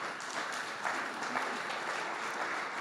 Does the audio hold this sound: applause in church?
yes